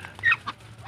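Newly hatched brown marsh ducklings giving a few high, thin peeps, one brief call louder than the rest, over a low steady background hum.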